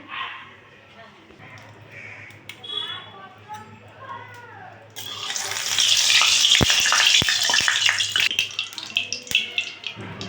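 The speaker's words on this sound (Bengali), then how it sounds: "পেঁয়াজ কুচি আর লঙ্কাটা দিয়ে দিচ্ছি এবার তেলে" Chopped onion and green chili hit hot oil in a heated wok (kadai) partway through, giving a loud, continuous sizzling hiss with a few sharp spatters; quiet kitchen sounds and a woman's speech come before it.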